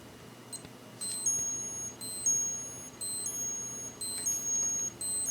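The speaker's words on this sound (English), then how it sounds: "And that's the alarm." A vintage Seiko 7T-series chronograph wristwatch alarm beeps in repeated bursts of high, thin electronic tones, close and fairly loud, with no talking.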